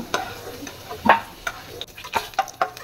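Pieces of steamed egg are lightly fried in oil in a pan, giving a soft sizzle with a few clinking stir taps against the pan, close and fairly quiet.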